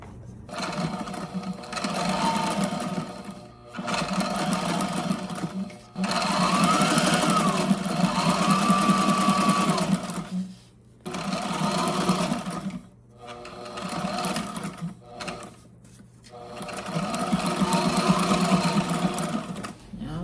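A sewing machine stitches a custom boat hatch cover with cordage sewn inside, running in long loud bursts of rapid needle clatter separated by brief pauses, close and dominant.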